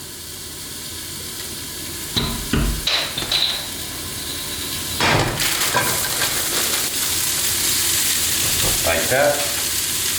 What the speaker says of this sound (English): put the mixed veggies into the pan with a little bit of olive oil